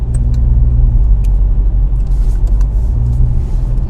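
Mercedes CLA 45 AMG engine running in sport mode, a steady deep rumble heard from close by with a few faint clicks on top and no talking.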